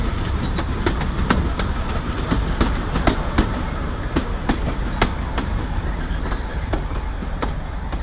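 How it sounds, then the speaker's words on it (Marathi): A heritage narrow gauge passenger train on the Bilimora-Waghai line, about 110 years old, rolling along with loud, close, rhythmic clickety-clack from the wheels over rail joints, steady and unbroken throughout. "आता आपली ट्रेन आलेली आहे केवडी रोड स्टेशनला"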